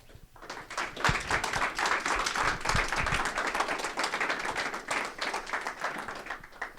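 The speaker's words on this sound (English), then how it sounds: "let's give a round of applause and bring up our panel" Audience applause welcoming a panel of videography experts at a digital marketing event, a full room clapping steadily and evenly for several seconds after a quiet start.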